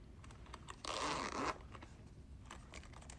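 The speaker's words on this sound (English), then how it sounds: "And zipper is so smooth." A zipper on a Huda Beauty makeup bag is pulled open in one quick, smooth, close zip lasting about half a second, set against quiet handling noises.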